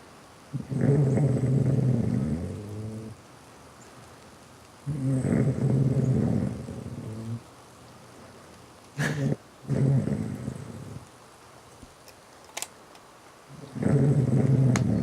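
A person asleep snores loudly and close up, with long rasping, growl-like breaths repeating roughly every few seconds and quieter pauses between them.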